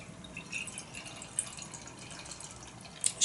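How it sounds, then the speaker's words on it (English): Rum barrel aged Imperial Coconut Stout beer being poured, a faint, quiet trickle and glugging of liquid with a few soft splashes and a louder gurgle at the end. "And it pours pretty much as you would expect from an Imperial Stout."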